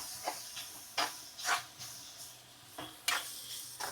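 Green chillies sautéed in a pan for a home biryani give a faint, steady sizzle, broken by several soft scrapes and stirs of a spatula at irregular intervals.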